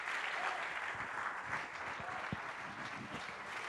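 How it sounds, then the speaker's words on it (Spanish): A church congregation applauds during a sermon, with a broad, continuous wash of many hands clapping together, heard somewhat distantly and at a low level. "Dale fuerte ese aplauso al Señor."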